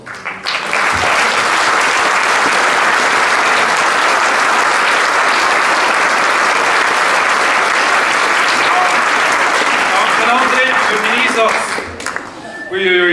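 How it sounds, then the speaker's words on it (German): Loud sustained applause from a large crowd in a hall at an annual band concert fills the space, then fades near the end as a voice begins speaking. "Und da gehen wir zurück in die Halle mit einem grossen Applaus"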